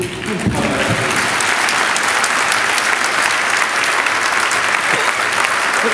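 Audience applause at a mayor's New Year wishes speech in Fontoy, dense sustained clapping from a large crowd, loud and even for several seconds with no voices over it.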